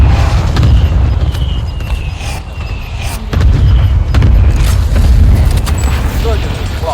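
Airstrike explosions in the video game Call of Duty Warzone, a series of heavy deep booms and rumbling impacts with sharp crackles, loud and layered, with voices speaking over them.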